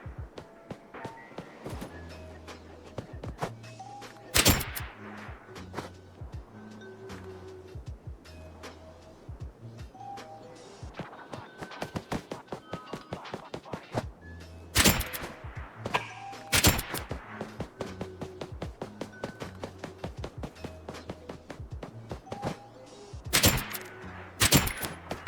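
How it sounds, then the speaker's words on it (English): Gunfire rings out in the Roblox shooter Blackhawk Rescue Mission 5 at Fort Ronograd, scattered single shots and quick bursts at varying distances, some sharp and loud, others distant, over a low droning background. "Multiple gunshots"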